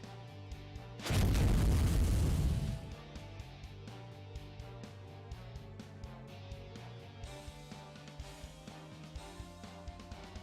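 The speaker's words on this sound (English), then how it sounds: "It's explosion!" An anime explosion bursts as a loud, dense roar that lasts about two seconds. A quiet stretch with faint clicks and background tones follows.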